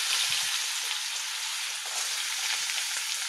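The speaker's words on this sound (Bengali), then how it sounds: "দেখো সবজিগুলো ভাজা হয়ে গেছে" Vegetables fry in hot oil in a wok, giving a steady, close, continuous sizzle and crackle that holds even throughout, with no talking over it.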